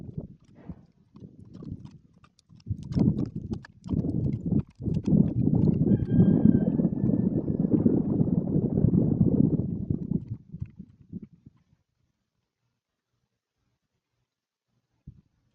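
A 2007 Foxtrotter mare's hooves clip-clop in a steady gaited rhythm, close and fairly loud, building and then fading out into silence.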